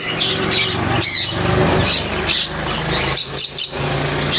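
Caged pineapple conures, sun conures and cockatiels at a bird sale let out loud, close, piercing squawks and chirps in overlapping bursts, with a faint hum of other activity beneath.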